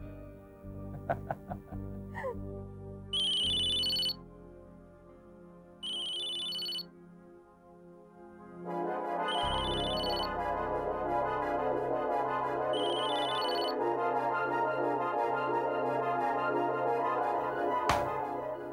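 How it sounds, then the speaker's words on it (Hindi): A phone ringtone chimes in repeating electronic bursts, then a fuller melodic tune swells in and plays continuously at moderate volume. "किसका फोन था"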